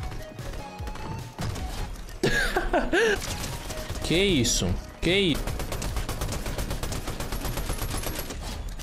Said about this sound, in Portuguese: os tiros contornando o cara